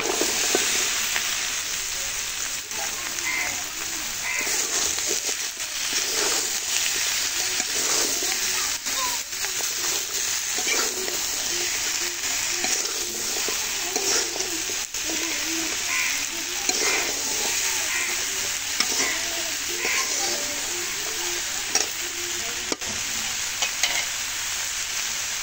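Vegetables hit a hot pan and are stir-fried, a loud, continuous sizzle broken by repeated scraping and clattering stirring strokes, close up, with no one speaking.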